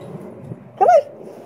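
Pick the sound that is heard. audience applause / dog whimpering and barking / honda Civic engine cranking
dog whimpering and barking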